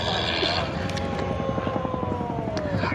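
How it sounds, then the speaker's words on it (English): A 2015 Carbon Cub light aircraft drones steadily at a STOL drag airshow in Columbus, its engine hum continuous and moderately close, with a faint pitch slide and crowd noise beneath. "He's running the 2015 Carbon Cub."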